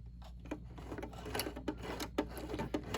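A Brother 1034D serger stitching reusable towels after a needle change, a quiet steady mechanical whir with rhythmic rubbing and clicking textures throughout.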